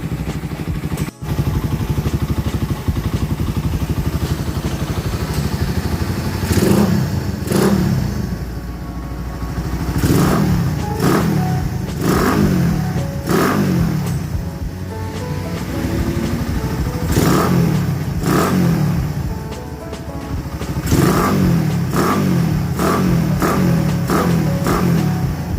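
A modified Raider 167cc motorcycle engine with a 66mm bore and 28mm Keihin carburetor runs close by, idling with a clattery rumble and repeatedly revved in short bursts.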